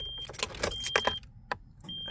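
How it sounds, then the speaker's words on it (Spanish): Keys for a 1999 Nissan Frontier pickup truck jangle in several quick metallic bursts, close by, with a faint high electronic tone on and off in the background. "Aquí tengo las llaves."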